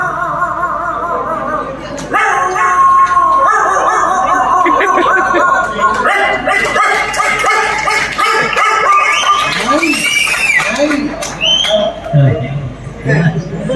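A mimicry performer voices dogs barking, yipping and howling, a loud run of rapid barks and long wavering howls close up, with a murmuring audience behind.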